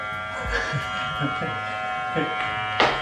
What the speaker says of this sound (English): So now we're vacuum sealing the steak.